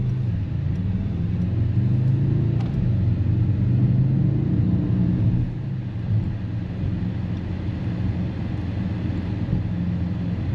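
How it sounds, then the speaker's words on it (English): Low exhaust rumble from a sporty Mercedes-AMG SUV on a hot day with the air conditioning running, a steady droning engine tone that eases slightly partway through, heard alone without voices. "we should still hear the exhaust sound"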